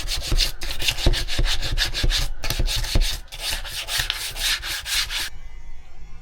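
A brush with textile cleaner scrubs fabric in quick, rhythmic back-and-forth strokes, loud and close, for about five seconds before stopping abruptly, with no voices.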